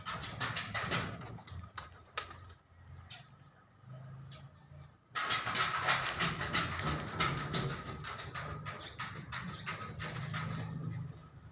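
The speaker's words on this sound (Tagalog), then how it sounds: "Ayun yung aso ko, gustong lumabas." A dog wanting to go outside makes soft whimpers and restless panting close by, with scratching and clattering noises that stop briefly, then resume louder and continue steadily.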